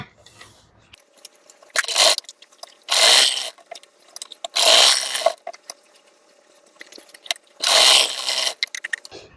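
A sewing machine stitches the lining of a princess cut blouse with a back neck design, running in four loud whirring bursts separated by short pauses and small clicks.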